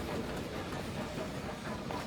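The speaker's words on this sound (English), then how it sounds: "A few weeks later, I'm on a train to Lyon." Train rolling along rails on a journey to Lyon, a steady, continuous rumble with dense low-frequency rattling and faint clatter throughout, fairly loud and close, with no voices.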